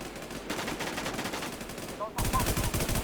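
Rapid automatic gunfire from an online shooter video game cracks in dense bursts, growing louder near the end, with a player's voice faintly under it.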